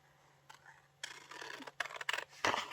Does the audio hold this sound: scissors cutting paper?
yes